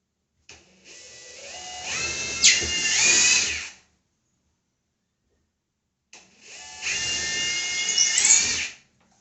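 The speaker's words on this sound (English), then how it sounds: "Now start drilling those 4 pilot holes." A power drill whirs in two separate bursts of a few seconds each, drilling pilot holes for a bathroom towel bar, its pitch rising as it bites, with silence between.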